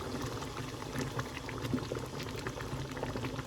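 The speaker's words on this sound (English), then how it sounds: "You see that it's boiling a little bit more, right?" A pot of yellow rice boils steadily on the stove, a dense, continuous bubbling and popping heard up close with no voices.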